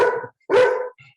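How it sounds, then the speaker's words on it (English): A dog barks twice in quick succession, loud and near, followed by a faint short sound. "My dog just heard your dog."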